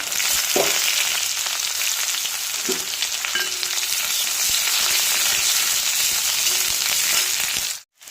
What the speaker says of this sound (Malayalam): കടുക് കുത്തി കഴിയുമ്പോൾ ചുവന്നുള്ളി വറ്റൽമുളക് ഇവ ചേർത്ത് കൊടുക്കാം എല്ലാം കൂടെ നന്നായി ഒന്ന് വഴറ്റിയ ശേഷം